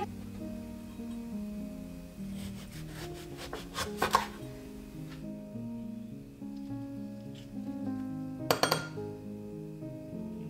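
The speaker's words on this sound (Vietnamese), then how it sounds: "Cứ múc hết một lượt thì mình sẽ cắt để có mặt dưa bằng phẳng để múc tiếp." A metal spoon scrapes and scoops through ripe melon flesh for a no-bake melon mousse cake, with soft repeated clinks and two sharper clatters against the fruit or a dish, close up with no talking.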